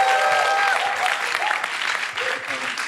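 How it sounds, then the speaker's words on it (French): Loud, sustained applause from an audience for musicians, dense clapping with a few voices and cheers mixed in. "On peut les applaudir très fort."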